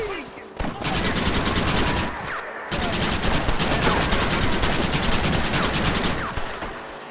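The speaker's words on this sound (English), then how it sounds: "Why are they all shooting at me?" Rapid, dense gunfire fills a Red Dead Redemption shootout, with loud volleys and repeated shots running almost continuously and pausing briefly twice. Voices can be heard in the mix.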